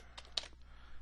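A few close, light keystrokes on a computer keyboard, with a short cluster of taps near the start and one sharper click, then quiet room hiss, entering a parameter during a debugging session.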